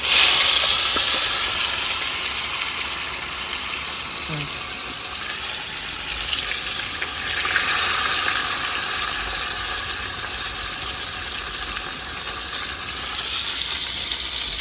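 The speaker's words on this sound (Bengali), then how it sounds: "এবার মাছ দিয়ে দেবো ভাজা করে দিলে।" Katla fish frying in plenty of mustard oil, giving a steady broadband sizzle and hiss that holds at an even level for the whole stretch, with a slight swell partway through.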